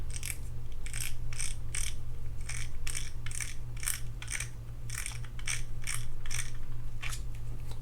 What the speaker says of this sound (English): I'm just going to undo that by taking out this drag knob.